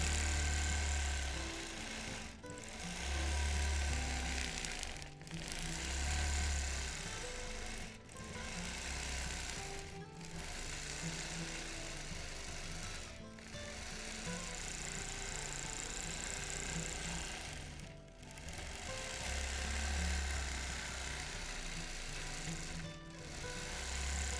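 A sewing machine stitching free-motion quilting runs in bursts of rapid needle clatter, each a few seconds long, separated by short pauses, close and fairly quiet.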